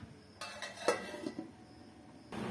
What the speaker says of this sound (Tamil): இப்போ சிம்ல வச்சு ஒரு அஞ்சு நிமிஷம் மூடி வைக்கலாம்